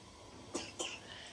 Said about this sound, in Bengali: কেন কাশছো সকাল সকাল